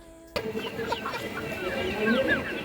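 Chickens cluck and squawk close by, several birds calling over one another, with a faint murmur of people in the background.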